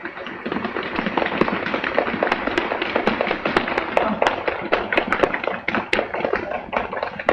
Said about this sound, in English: several times a day you thump your thumb. And this is how you do it.